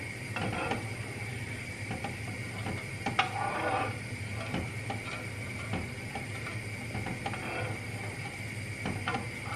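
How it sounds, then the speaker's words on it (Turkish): Göçmen paça is stirred slowly in a dry pan with no oil, giving steady, soft scraping and clicking under a constant low background hum, with no one speaking. "bunu şöyle karıştırarak yavaş yavaş karıştırarak pişireceğim"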